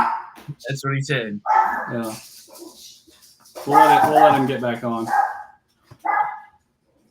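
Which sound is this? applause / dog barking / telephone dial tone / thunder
dog barking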